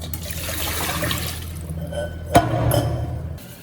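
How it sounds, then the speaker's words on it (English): Cold tap water runs steadily over boiled eggs in a kitchen, a continuous splashing stream with one brief clink or knock partway through. "Run cold tap water over the eggs or place them in a bowl of ice water."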